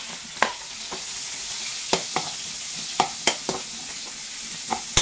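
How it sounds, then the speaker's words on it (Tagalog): Garlic and onion sautéing in a pan for Filipino dinendeng, a continuous soft sizzle broken by repeated sharp scrapes and clacks of a spatula stirring, no voices. "At magigisa tayo ng bawang. Tapos sibuyas"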